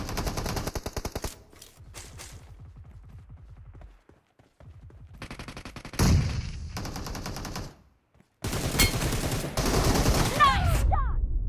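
Rapid bursts of automatic fire from an M762 rifle in BGMI, loud and close, in several clipped volleys broken by short pauses and a near-silent gap, alongside quieter rapid clicking.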